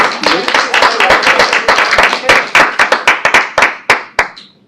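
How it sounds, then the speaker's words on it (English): An audience claps for a speaker at a social finance research talk: a close, loud round of distinct hand claps that starts dense and thins into a few separate, fading claps. "let's give Dr. Parekh a good round of applause"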